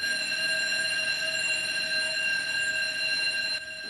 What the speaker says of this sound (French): C'est quoi cette alarme?